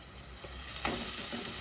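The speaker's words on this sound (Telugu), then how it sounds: "అందుకోసం నేను ఇప్పుడు మసాలా వేయగానే చికెన్ వేస్తున్నా." Raw chicken pieces tipped into hot masala in a pan for coconut milk chicken biryani, giving a soft, steady sizzle that swells slightly as the meat lands and settles, close up and moderately quiet.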